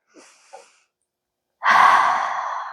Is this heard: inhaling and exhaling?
yes